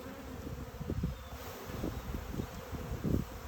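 A close, steady buzz of many honeybees during a hive inspection as bees are shaken off a frame, with louder swells as individual bees pass near.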